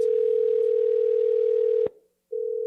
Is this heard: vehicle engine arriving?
no